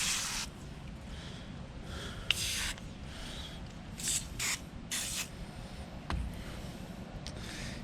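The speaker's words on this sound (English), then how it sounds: "I'm gonna start spraying it right now." Seafoam Deep Creep penetrating spray is sprayed onto the rusted gas tank of a 2003 Toyota Corolla in several separate short hissing bursts. The bursts are close and fairly loud, separated by quieter pauses.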